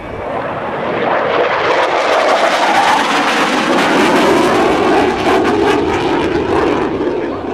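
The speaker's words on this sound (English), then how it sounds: "Gotta love that kind of sound and speed. The FG-1 Corsair, out of a little bit of haze." An FG-1 Corsair roars past at an airshow, its loud piston-engine and propeller noise swelling to a steady, full rush as the aircraft makes a fast, banking pass nearby.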